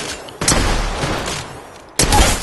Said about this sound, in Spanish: Pega dos tiros más